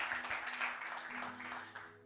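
A church congregation applauds steadily for about two seconds, a dense, moderately loud wash of clapping with some voices mixed in.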